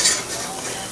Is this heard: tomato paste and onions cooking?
yes